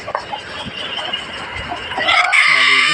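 Broody hens cluck in short, scattered notes, with a louder, drawn-out call rising near the end. No one speaks.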